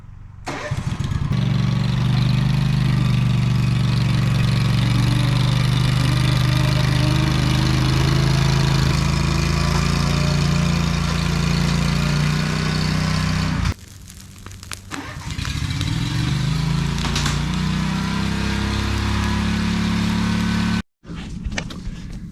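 A homemade mini tank's engine runs steadily and loudly at close range as it drives, with a brief dip and sputter partway through before it roars on, then cuts out sharply near the end.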